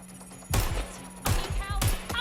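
Gunfire in Watch Dogs Legion comes as three sharp, booming bursts of shots spaced apart over a low steady hum, moderately loud and with no voices.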